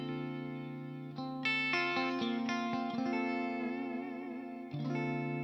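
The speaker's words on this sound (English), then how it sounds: "I can switch off and switch on this reverb." A sustained high-gain distorted guitar chord rings out, its tail and wash shifting abruptly as a short reverb is toggled off and back on, with no talking.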